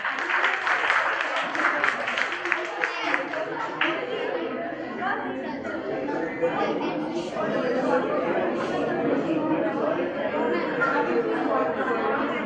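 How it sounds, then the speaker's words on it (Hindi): Schoolchildren at a school prize-giving clap loudly at first, then the applause thins into crowd chatter and talking. "जी, बच्चे तालियां बजाए जोरदार।"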